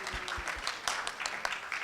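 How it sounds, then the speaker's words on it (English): Seated audience at a fireside chat and panel discussion clapping, a brief patter of scattered hand claps, moderately close, with a voice faintly underneath. "Could we clap again?"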